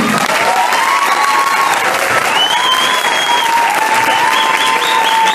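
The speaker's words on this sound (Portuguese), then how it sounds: "uma salva de palmas ao Cao e à sua família" Loud, continuous applause and cheering from an audience before a wushu martial arts show in Brazil, thick clapping with whistles and shouts rising over it throughout.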